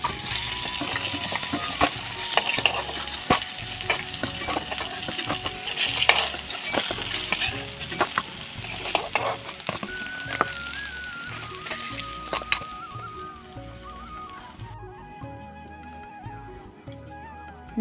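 Pieces of katla fish sizzle loudly in hot oil with continuous crackling and spatter, while a spatula stirs and scrapes the pan; the frying dies down near the end.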